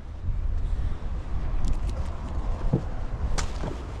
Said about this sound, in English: Too windy